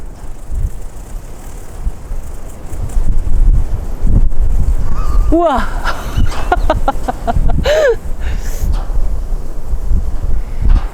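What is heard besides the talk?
strong countryside wind blowing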